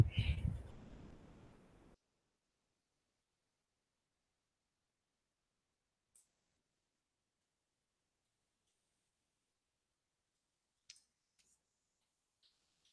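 A computer mouse gives a few faint, isolated clicks, widely spaced, in a quiet room after a short burst of noise at the start.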